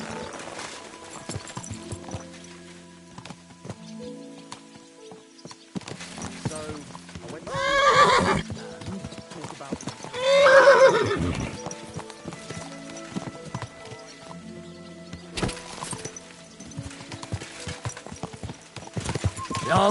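Horses ride out in the medieval video game Kingdom Come: Deliverance II, with steady clip-clop hoofbeats and two loud whinnies. Music and game sounds play underneath, with brief speech between the hoofbeats.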